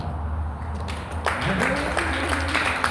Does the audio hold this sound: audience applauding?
yes